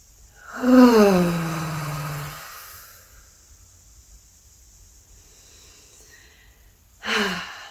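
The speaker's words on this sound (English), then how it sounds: "Let's take a big deep breath again" A person draws one big deep breath, a long audible inhale that eases off over about two seconds, then after a quiet pause a shorter second breath begins.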